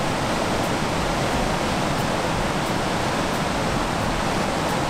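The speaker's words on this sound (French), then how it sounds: "Et en fait c'est une cascade, elle n'est pas naturelle, elle a été construite par les Romains" A man-made waterfall built by the Romans, heard as a loud, steady rushing roar of falling water close by, unbroken and dense for the whole stretch with no voices.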